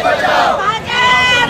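A large crowd of protesters packs the gate area of the Sangli Miraj Kupwad municipal corporation, loud and close, with overlapping raised voices and chanting-like shouts.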